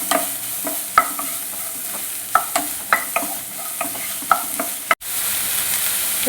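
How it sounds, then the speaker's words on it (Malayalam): Sliced onions frying with salt in a pan for Kerala prawn biryani, a steady sizzle punctuated by regular spatula taps and scrapes, close and fairly loud, with a brief cut near the end. "ഉപ്പിട്ട് കൊടുക്കുമ്പോൾ സവാള പെട്ടെന്ന് വാടിക്കിട്ടും സവാള നല്ലോണം വാടി വരണം"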